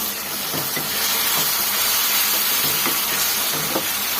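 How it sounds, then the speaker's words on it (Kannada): Tamarind juice frying in a pan with capsicum rice masala, a loud continuous hiss and sizzle with occasional faint stirring scrapes, no talk. "1-2 ನಿಮಿಷ ಇದು ಫ್ರೈ ಮಾಡ್ಕೊಳ್ಳೋಣ ಚೆನ್ನಾಗಿ, ಹುಣಸೆ ಹಣ್ಣು ಹಸಿ ಸ್ಮೆಲ್ ಹೋಗೋವರೆಗೂ"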